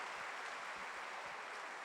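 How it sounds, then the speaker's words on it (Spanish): A church congregation applauds in a steady, dense burst of clapping that fills the whole moment at an even level, with no voices standing out. "Y aplaudimos acto seguido."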